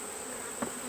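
Honey bees buzz steadily around a beehive in the evening, a continuous close drone with no speech over it.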